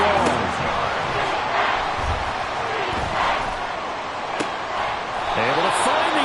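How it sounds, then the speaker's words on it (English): A loud football stadium crowd roars during a Jets versus Buccaneers game after a Buccaneer sack. The cheering stays steady and dense while a commentator talks over it. "This crowd turning up the decibel level"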